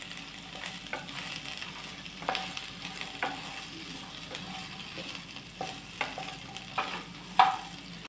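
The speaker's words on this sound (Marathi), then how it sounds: "हे बघा थोडं तेल टाकून मी भेंडी भाजली" Okra (bhendi) fries in a little oil with a faint, steady sizzle, broken by soft intermittent stirring scrapes and clinks of a utensil against the pan, with no voices.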